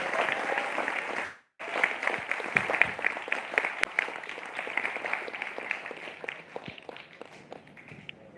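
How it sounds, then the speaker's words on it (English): Round of applause for PEC at a college orientation day, a dense clapping crowd that breaks off briefly near the start, then resumes and carries on steadily with scattered sharp claps. "Raise a round of applause for PEC."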